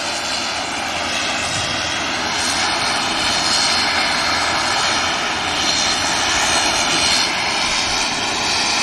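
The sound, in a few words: KLM Embraer aircraft engine at Manchester Airport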